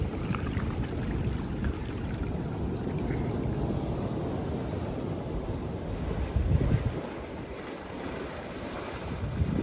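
Ocean water surges and washes into rocky tide pools at Duxbury Reef, California: loud, continuous surf with heavy wind buffeting the microphone and a stronger rush of water near the end.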